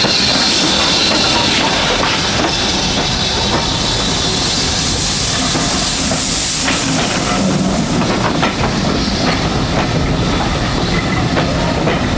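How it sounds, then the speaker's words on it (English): Steam tank locomotive No. 80151 passes close by on the Bluebell Railway with a steady loud hiss of steam over rhythmic clattering wheels and a continuous mechanical rumble. "Tank Locomotive No. 80151 returns from Kingscote, passing the permanent wayworks"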